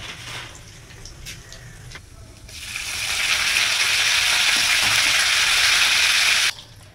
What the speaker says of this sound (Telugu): మనం ఇప్పుడు పోపు దినుసులు అయితే వేసుకోవాలన్నమాట.